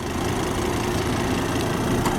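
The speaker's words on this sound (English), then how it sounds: "5-cylinder engine is just purring away like brand new." A 2004 Volvo XC90 AWD's five-cylinder engine idles smoothly and steadily, a constant low rumble heard up close under the open hood with no talking over it.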